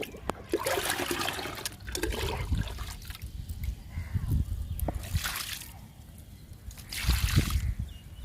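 Liquid poured onto bottle gourd and other garden plants in bursts of splashing and trickling, with a couple of louder sloshes, close by and alone without talk.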